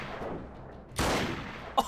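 A gunshot in a clay pigeon shooting video game, Freeman Guerrilla Warfare: a loud, sharp blast with a brief burst of follow-up, then a second short crack near the end over low background.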